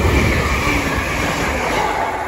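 A Chiltern Railways class 168 unit, number 168.214, on the Marylebone to Oxford service rolls past with a loud, steady rumble of wheels and engine close by, continuous for the whole span without speech.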